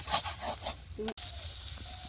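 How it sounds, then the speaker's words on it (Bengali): A few neem leaves sizzle and crackle in hot oil in a home kitchen, a close steady frying hiss with stirring scrapes and a brief dropout partway through, no talking. "মা এখন তেলের মধ্যে দিয়ে দিয়েছে কয়েকটা নিম পাতা"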